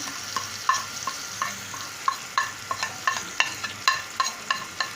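Beef with spices and a reserved garam masala being stirred and fried in a pan: a steady sizzle under repeated scraping and clinking strokes of a spoon, close and moderately loud, with no talking.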